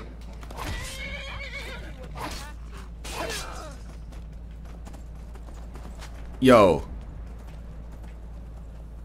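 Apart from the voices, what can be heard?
horse neighing and hooves clopping in Skyrim video game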